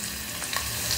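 Crushed garlic cloves sizzle steadily in hot oil in a pan while cooking kolim, a brisk continuous hiss with small crackles and pops, close and alone with no talking.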